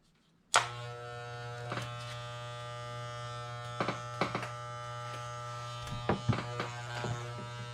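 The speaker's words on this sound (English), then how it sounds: "Just kind of shave it a little closer." An electric trimmer buzzes steadily as it shaves the fur of a monster costume, starting abruptly and holding a loud, even hum with occasional scraping bursts as the blades bite into the fur.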